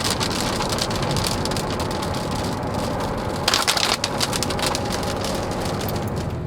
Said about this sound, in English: Hello, sudden rain.